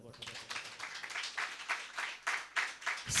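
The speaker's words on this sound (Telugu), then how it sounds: "ఒకసారి చప్పట్లు కొట్టండి" A church congregation claps together during a Friday worship service, with quick, fairly even bursts of hand claps repeating steadily over a murmur of voices.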